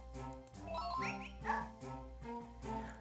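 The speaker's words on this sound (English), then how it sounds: "Apparently that call effect actually makes this weird dog bark sound effect." A quirky synthesized dog-bark effect from the Nintendo game Zelda: Spirit Tracks yelps in short repeated bursts over steady tonal game music.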